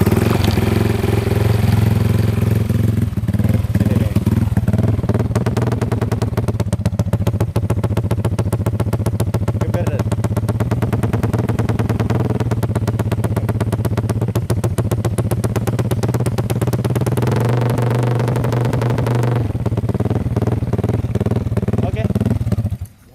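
A Honda Vario scooter engine idles steadily for the whole stretch, with a low continuous hum and a few slight shifts in pitch but no hard revving, while people talk over it.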